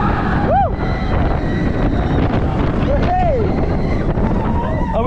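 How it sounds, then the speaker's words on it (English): Roller coaster launch at Energylandia, heavy wind buffeting the rider's microphone in a loud continuous roar, with faint rising whistles and tones underneath. "Ready for the main launch."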